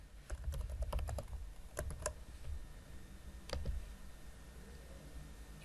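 Computer keyboard typing in quick bursts of clicks and key taps, fairly close and fairly quiet, with short pauses between runs of keystrokes and no voices.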